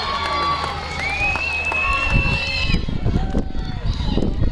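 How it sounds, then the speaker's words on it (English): Crowd cheering and shouting at an outdoor chilli eating challenge at Newark Showground, a steady, lively roar of voices with whistles and calls, loud and continuous throughout, mixed with an announcer's voice. "Give them a big cheer."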